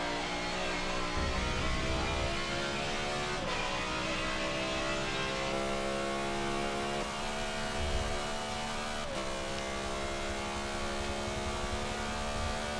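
In Forza 7, a race car engine drones with a steady, buzzy lawnmower-like tone heard from inside the cockpit, a continuous even hum with slight pitch shifts and no talking.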